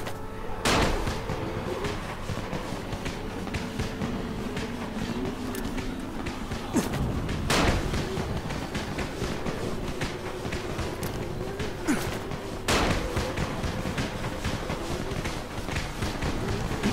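Firecrackers go off in the video game Dying Light. Three sharp, loud bangs are spaced several seconds apart over a constant low rumbling game background.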